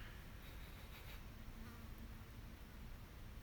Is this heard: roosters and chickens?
no